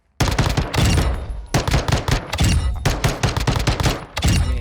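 Pistol shots from Modern Warfare 2 multiplayer crack out in a steady rapid series of loud, close reports, closely spaced with brief pauses, with no talking over them.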